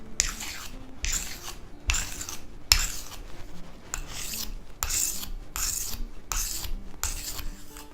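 A knife blade stroked repeatedly across a sharpening stone, about eight even rasping passes in steady rhythm, close and clear with brief pauses between strokes.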